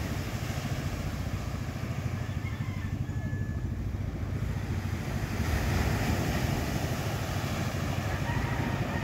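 Ocean surf roars continuously in a dense, steady wash, with gusty wind buffeting the microphone throughout.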